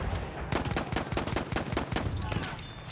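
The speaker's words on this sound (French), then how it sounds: "Hop là, un petit coup de flingue." Rapid gunshots in the video game Battlefield 1, firing in quick bursts of sharp, loud cracks in an irregular rhythm with brief pauses between shots, and no speech.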